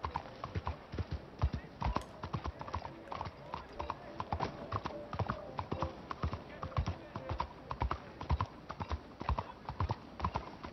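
A horse trots on pavement in the video game Red Dead Redemption 2, its hooves clacking in a steady rapid rhythm throughout, fairly close and crisp.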